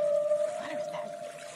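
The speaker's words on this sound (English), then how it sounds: "Whale." A whale call from a recording played during a preschool lesson: a sustained tonal moan that holds steady and then bends in pitch, fairly clear over faint background noise.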